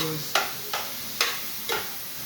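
Spinach and vegetables stirred in a pan, with four evenly spaced scraping strokes over a faint steady sizzle, close and fairly quiet.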